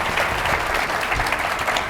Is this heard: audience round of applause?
yes